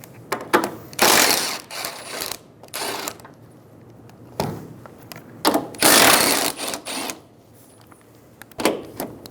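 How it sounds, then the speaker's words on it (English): A 14mm socket on a ratchet wrench loosens the strut top nuts on a 2007-2011 Toyota Camry, with close, rapid clicking bursts of ratcheting separated by short pauses, repeated several times. "Using a 14mm socket, remove the 3 nuts on the top of the strut."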